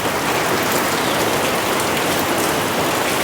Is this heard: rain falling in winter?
yes